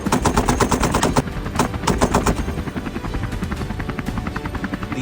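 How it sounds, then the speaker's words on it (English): Helicopter hovering at low altitude during an aerial hunt over deep jungle, a loud steady rotor chop with fast rhythmic beating throughout, close and dominant, slightly easing in the second half. "We lower altitude. Hold the aircraft stable for John's optimal shot angle."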